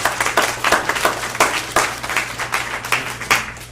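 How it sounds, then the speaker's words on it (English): A room of people clapping at a school board meeting, a loose, moderately loud round of applause with individual claps standing out over a steady electrical hum. "let's round of applause for our parents"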